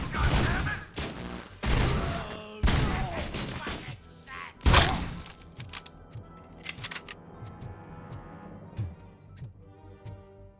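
A flashbang breach and a burst of gunfire in the RoboCop: Rogue City video game: several loud, rapid bangs and thuds early on, then one sharp blast followed by scattered clicks and ticks fading away. Game voices are heard in places.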